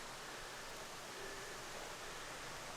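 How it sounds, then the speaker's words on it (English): Steady broadband rush of a waterfall in the Wyre Forest, a constant close wash of falling water with no breaks across the short stretch. "hopefully you'll have heard some of that, if not all of it, from the waterfall there"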